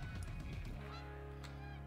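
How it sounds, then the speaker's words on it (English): Geese honk repeatedly in a hunting video game, a loud cluster of calls over a steady low drone that carries on alone after the honking fades. "I love it when I can't spot the geese."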